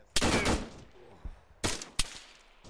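Gunfire during a platoon training exercise for an amphibious landing, a burst of sharp nearby shots followed by scattered single cracks, loud and close, with no talking.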